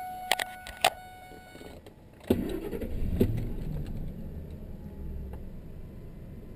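A Ford F-150 pickup's engine cranks and catches with a quick starter whir, then settles into a steady low idle, after a few faint clicks and chimes from the dash beforehand.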